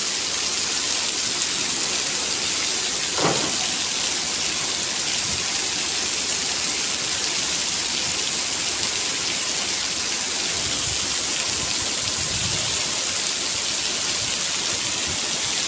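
Heavy afternoon rain pouring in the Mateel area of Morbi, a dense, constant hiss filling the whole stretch, loud and close, with a faint brief tone near the start.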